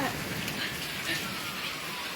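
Rain from a July thunderstorm, a soft, even patter and hiss of falling drops heard fairly faint and steady throughout, with voices talking over it.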